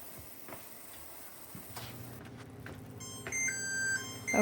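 A kitchen timer ticks and then beeps in short repeated bleeps as a minute of boiling jam runs out, quiet and close with no voices.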